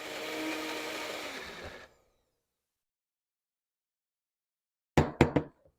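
Blender whirring loudly as it mixes garlic salve ingredients, running steadily for about two seconds before stopping, followed after a silence by a few short knocks.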